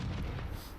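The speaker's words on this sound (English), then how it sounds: "So throw a grenade there." A grenade detonating in the video game Halo 1 on the Battle Creek map, a loud, low rumbling boom that fills the brief moment with a dense, dull roar and no voices.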